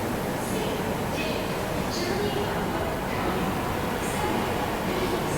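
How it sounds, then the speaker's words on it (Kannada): The Toofan Duronto express train pulling out of a station, a steady rumbling roll of wheels and carriages with a few faint squeals on top, moderately loud and continuous throughout. "ನೀವು ನೋಡ್ತಾ ಇರ್ಬೋದು ತೂಫಾನ್ ದುರಂತೋ ಡಿಪಾರ್ಟ್ ಆಗಿದೆ 11:40ಕ್ಕೆ"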